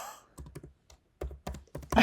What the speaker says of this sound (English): I see you typing.